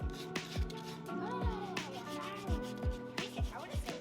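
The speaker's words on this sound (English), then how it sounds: "do that final sanding on the Katana" A wooden katana is hand-sanded with 220-grit sandpaper, a close rubbing rasp under a background of tonal sounds and repeated low thumps.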